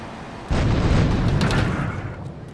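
A car blowing up in the video game GTA III: a sudden loud, low boom that lingers as a heavy rumble and slowly fades over about two seconds.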